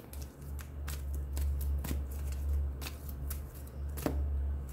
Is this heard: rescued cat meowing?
no